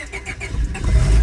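A lifted Honda Civic with mold on its engine cranks briefly and then catches, the starter whir giving way to a loud, close engine rumble that builds and settles into idle.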